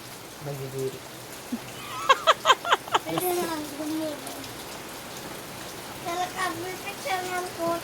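Rain falls steadily in the background, a soft continuous patter, while children talk and call out over it.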